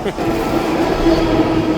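Steady rumbling and rattling of a moving train carriage fills the space, with a faint wheel squeal and muffled voices nearby.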